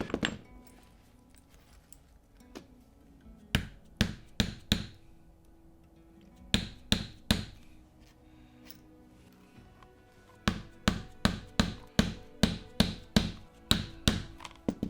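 Sharp, ringing taps come in quick bursts of three to eight strikes as brass rivets are hammered into leather, separated by short quiet gaps and picking up into a fast run near the end.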